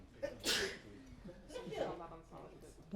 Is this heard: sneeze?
yes